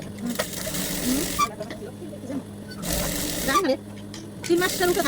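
A sewing machine stitches a child's salwar in several short bursts of rapid, whirring needle strokes separated by brief pauses, with a voice talking over it.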